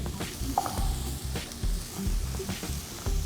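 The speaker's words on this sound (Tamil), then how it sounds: "இது வதங்கிட்டு இருக்கும்போது" Mutton trotter soup ingredients for Chettinad-style soup sautéing in a pan, a low continuous sizzle with faint stirring scrapes close by, no talk.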